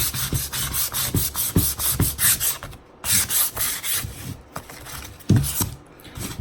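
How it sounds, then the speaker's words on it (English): Sandpaper rubs quickly back and forth along the painted edges of a Frankenstein, ghost and pumpkin Halloween craft, a close, rhythmic scratchy rasp with brief pauses between bursts of strokes, and no talking. "sand it. Nothing perfect. Mainly concentrating on the edges."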